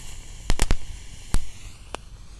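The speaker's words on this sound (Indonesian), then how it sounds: "selanjutnya kita nyalakan ini gangsing jumbo pretek, ukuran jumbo ya" A jumbo crackling spinner firework gives a few sharp, loud crackling pops close by, three in quick succession, then one more and a fainter last one, with no talk.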